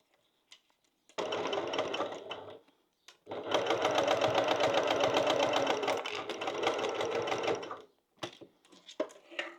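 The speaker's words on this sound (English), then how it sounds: "I'm going to sew down there at a 10 mil or 3/8 of an inch." A sewing machine runs a 3/8-inch seam across the bottom of a pouch with hardware: a short burst of stitching, a brief pause, then a longer steady run, close and clear, followed by a few light handling clicks.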